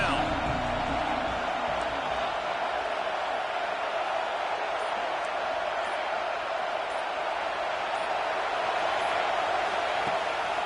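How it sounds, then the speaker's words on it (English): Dense, steady roar of a football stadium crowd cheering loudly behind the defense on third down in an Iowa versus Ole Miss game, a constant wash of voices and whoops holding for about ten seconds. "Decibels rising as the crowd gets behind this defense on third down."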